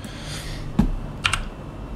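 A few computer keyboard keys are pressed during work in Blender, sparse close clicks: one firmer tap, then a quick pair of lighter ones over quiet room tone.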